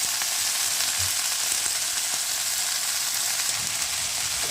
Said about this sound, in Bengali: আমি সর্ষের তেল গরম করেছি, শুকনো লঙ্কা ফোড়ন দিয়েছি, আর এখানে সজনে ফুল আর বেগুন দিয়ে দিচ্ছি।